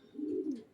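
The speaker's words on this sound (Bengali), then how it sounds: "এই হচ্ছে ফটকা জোড়া।" A single short, low coo comes from a pair of Fotka pigeons, soft and close, rising and fading within a moment against quiet surroundings.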